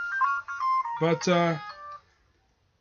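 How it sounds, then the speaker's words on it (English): A mobile phone ringtone plays a bright, repeating electronic melody, fairly loud for about two seconds before cutting off, with a brief word spoken over it. "Sorry, that's my phone."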